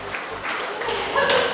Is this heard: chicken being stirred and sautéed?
no